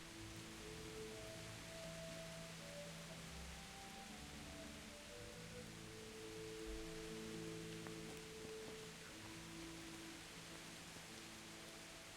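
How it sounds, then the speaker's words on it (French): Steady rain falls throughout a scene in the video game Kingdom Come: Deliverance, a continuous even hiss with soft low tones sustained underneath and no speech. "Il pleut."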